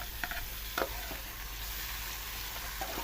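Onion, chili and tomato fry in a pan for radish bhurji, a steady close sizzle with a few sharp stirring clicks and scrapes, no voices.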